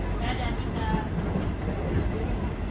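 A KAI Commuter train rumbles at Cilebut station, a continuous low rolling drone of the carriage with faint rattles, under a talking voice.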